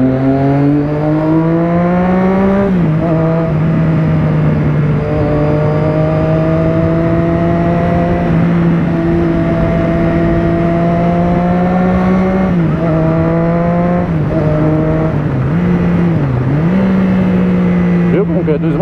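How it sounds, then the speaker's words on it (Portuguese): A car engine revs and drops as gears are downshifted, its steady tone jumping in pitch at each shift, loud and close throughout with someone talking over it. "Viu como que reduz marcha?"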